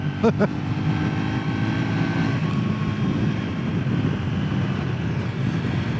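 A Triumph Scrambler 400X motorcycle engine at full throttle drones steadily under heavy wind rush, with a sustained rising engine tone and a few brief clicks early on.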